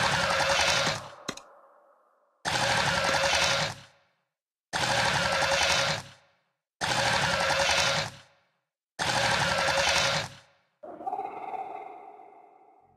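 Creepy plants in the game Kingdom Rush Vengeance, modeled on the Stranger Things demogorgons, let out five loud, even bursts of harsh growling noise separated by short silences, followed by a final shriller, tonal screech.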